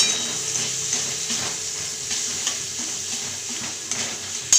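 A spoon scrapes and stirs ginger paste, garlic paste and spices frying in a pan, with a steady close sizzle and repeated stirring strokes throughout. A louder clatter comes at the very end.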